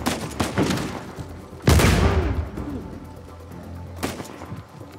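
Loud shotgun blasts ring out in the action game Uncharted 4, several heavy booms spaced a second or two apart with echoing decay, the biggest one near the middle, over faint ambient game sound.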